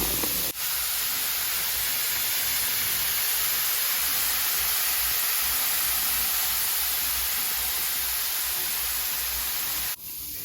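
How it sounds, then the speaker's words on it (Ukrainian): Cleaning powder fizzing and foaming inside a saucepan, a close, steady hiss that stays constant throughout with no talking. "Мені дуже подобається, як воно шипить, бурлить, піниться."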